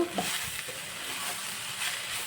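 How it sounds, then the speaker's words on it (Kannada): Horse gram being fried briefly in a pan for a village-style upsaaru, a steady close hiss of sizzling oil with faint stirring scrapes, no voices. "ಜಸ್ಟ್ ಸುಮ್ಮನೆ ಒಂದು ನಿಮಿಷ ಹಿಂಗೆ ಫ್ರೈ ಮಾಡಿಕೊಂಡ್ರೆ ಸಾಕು"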